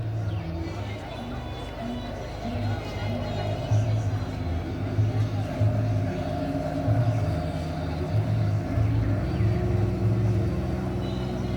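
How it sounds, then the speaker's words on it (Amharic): A fast motorboat crosses Lake Tana on the Bahir Dar to Gorgora route, its engine giving a steady low drone throughout. Someone talks over the motor noise. "ጀልባው በጣም ፈጣን ነው።"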